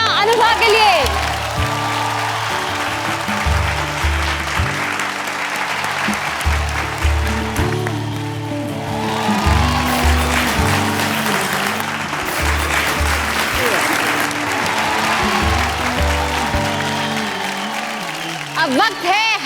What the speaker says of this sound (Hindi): जोरदार तालियां अनुभा के लिए